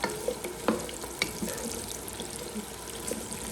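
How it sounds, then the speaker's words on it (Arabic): Vegetables sauté and wilt in a hot pan for a quick winter dish, a steady close sizzle broken by a few sharp clinks and stirring scrapes. "انا عايزه اخلي الخضار ده يتشوح كده يدبل اهو"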